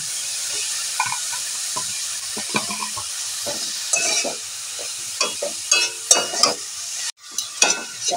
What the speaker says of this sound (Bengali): বিটটা 1 মিনিট নাড়াচাড়া করে নিয়েছি। এবার দিয়ে দেব গাজর কুচিটা